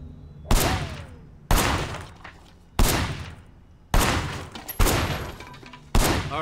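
Gunfire in the video game Sleeping Dogs: six loud, sharp shots spaced roughly a second apart, each a hard crack with a short ringing tail, fired alone with no talk.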